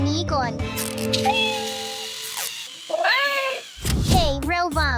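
Robot cat toy giving a series of rising and falling electronic meows, close and clear, interleaved with children's voices talking over and between the calls.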